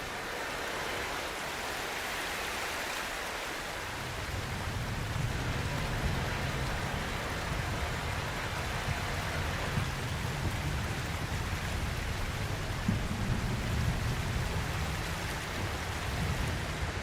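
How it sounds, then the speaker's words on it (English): Steady rain in the video game Cairn hisses evenly, a dense wash of falling drops with a low patter joining in partway through, continuous and moderately quiet. "Doesn't look like this rain is going to stop anytime soon."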